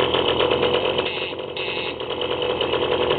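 A moped engine running for the first time after being fitted to the frame, a steady, loud, buzzy two-stroke-like drone that holds throughout with slight wavering.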